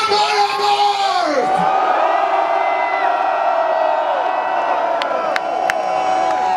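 A huge metal festival crowd in Gävle screams and cheers at full volume for Amon Amarth, a dense, sustained roar of yells and whoops that fills the whole stretch with no letup.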